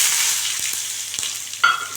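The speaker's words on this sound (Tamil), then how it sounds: "அப்படியே கொஞ்சம் காஞ்ச மிளகாய் கொஞ்சம் நிறையா போட்டுக்கணும்." Dried red chillies with mustard seeds and asafoetida frying in hot oil for a Tamil tamarind thuvaiyal, a close, steady sizzle with a few small pops and a sudden louder crackle near the end.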